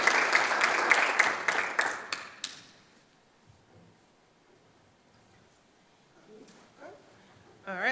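Applause from a small crowd at a Relay for Life kickoff at Westland City Hall, loud and dense for about two seconds and then fading to near silence, with faint voices and some movement near the end.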